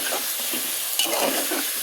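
Ground spice paste sizzles and fries steadily in a pan of snakehead fish curry, a continuous close hiss with faint stirring scrapes throughout.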